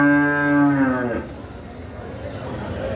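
A cow at a livestock market in Dabwali lets out a single loud, deep moo close by, trailing off after about a second into background crowd murmur.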